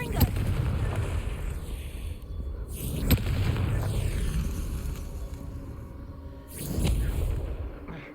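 A Confringo fire spell explodes in the Hogwarts Legacy video game, a booming blast among repeated loud bursts and rumbling, with a voice speaking over the battle.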